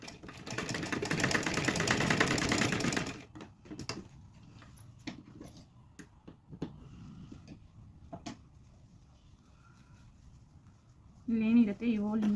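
Sewing machine stitching cloth for a homemade hair scrunchie: a steady, close whirring run for about three seconds, then scattered clicks and handling noises at low level, with a brief voice near the end.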